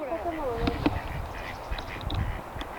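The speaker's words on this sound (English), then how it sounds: "There's some Canadian geese over there." Canada geese honk and call faintly in short scattered bursts from across a pond in a wooded spot, mixed with other background sounds and a voice talking nearby.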